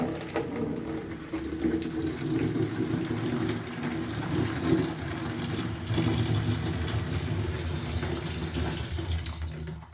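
Hot water pours steadily into a plastic bucket, a continuous rushing, splashing fill with a low drumming undertone, close and fairly loud, lasting throughout without talk.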